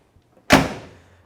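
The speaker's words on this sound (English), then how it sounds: "Let's shut the door." The door of a 1967 Chevrolet Chevelle SS 396 shuts with a single solid thump, close and loud, followed by a short fading ring after near silence.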